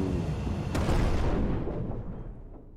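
A big explosion in the space survival video game Breathedge, a broad roaring blast with a sharp crack early on that slowly rumbles away into fading debris noise; no talk over it.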